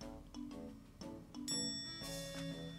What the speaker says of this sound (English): Ringing this bell will open the food menu.